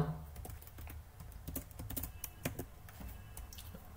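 Fast typing on a computer keyboard while writing Python code, a quick stream of soft close key clicks with uneven spacing and a few louder taps, alone without talk.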